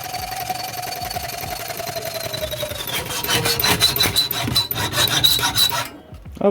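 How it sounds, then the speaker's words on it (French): A hacksaw rasps back and forth through metal in steady strokes, close and loud, speeding up toward the end before stopping. "à la scie à métaux, à l'ancienne."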